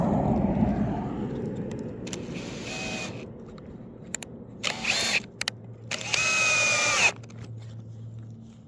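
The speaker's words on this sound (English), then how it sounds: "So now we'll just run the screws in." A power drill drives screws into model railway track, with a short whirring burst followed by a longer, louder run of motor whine, close by in a quiet room with small clicks between.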